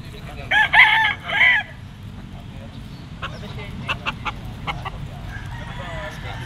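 A rooster crows loudly and close at a pet market in Pasig, one drawn-out call near the start, followed by faint scattered clucks over a busy background murmur.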